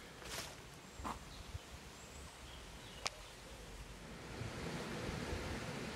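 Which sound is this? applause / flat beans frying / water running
water running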